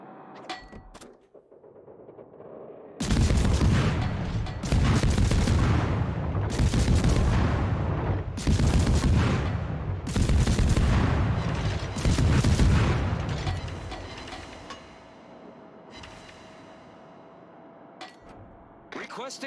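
Naval gunfire from the Tier 9 destroyer USS Black in a World of Warships ranked battle: a run of loud, booming salvos in rapid clusters, each with a rumbling tail, sounding close and heavy over a steady background.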